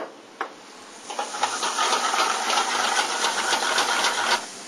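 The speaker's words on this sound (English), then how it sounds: "I will fry my garlic, add my onions and green peppers, get those sauteed very nice" Garlic, onions and green peppers frying in oil, a loud, close hiss and sizzle that swells after a sharp initial crackle and holds steady before dropping away at the end.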